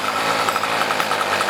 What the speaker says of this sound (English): Which that bogging noise